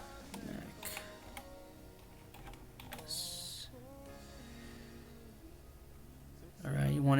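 Keyboard keystrokes tap out in short, irregular bursts during a Hackintosh macOS Sierra installation on an i7 4790K build, light clicks under an ongoing narrating voice, ending with a louder burst of noise.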